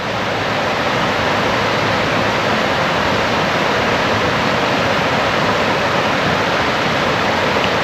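A river in Lancashire flows past a bench, making a steady, loud broadband rush of water that stays constant throughout, with no voices and no other distinct sounds.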